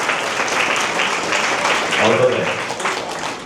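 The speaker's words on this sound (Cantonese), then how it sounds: "有冇俾啲掌聲啊？" An audience at a Christian secondary school students' revival camp applauds a pastor, a continuous even clapping wash with someone speaking over it near the end.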